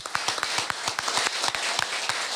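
A live audience at a recorded Low German podcast show claps loudly and steadily, many hands together in a busy, even patter, close and continuous for a couple of seconds.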